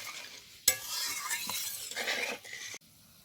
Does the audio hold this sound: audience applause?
no